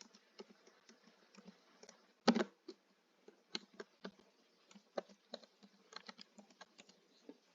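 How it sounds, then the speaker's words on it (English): A password is typed on a computer keyboard: quiet, close, irregular key clicks with one sharper, louder tap early on. "we'll go ahead and put our password in here."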